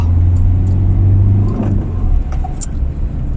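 A car engine rumbles close by, its pitch rising and dipping as it speeds up through the gears, with no talking.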